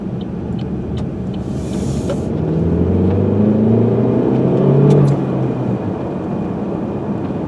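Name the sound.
turbocharged four-cylinder car engine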